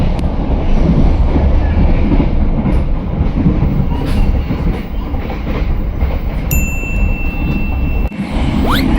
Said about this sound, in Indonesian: Ini POV kita kayak naik kereta Walahar tapi jalan terus ya